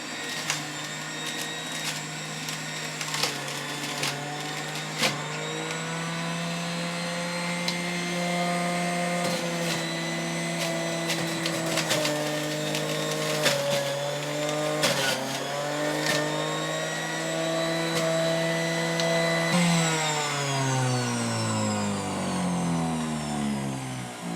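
Electric juicer grinding chopped yacon chunks, a steady droning motor whine that shifts in pitch as pieces feed through and then winds down near the end, continuous and fairly close.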